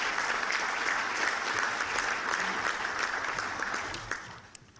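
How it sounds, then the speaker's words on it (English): A breakfast audience at a chamber of commerce event in Chester applauds steadily for nearly five seconds, a dense, even wash of clapping that thins and fades out at the end. "let's have a round of applause for a Chester resident that's doing so much"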